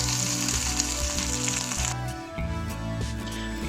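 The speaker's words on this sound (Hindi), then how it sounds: "उसमें हम भिंडी को फ्राई कराएंगे।" Okra frying in two to three tablespoons of hot oil in a pan, a dense, loud crackling sizzle that shifts and settles partway through, with faint clatter and low hum beneath.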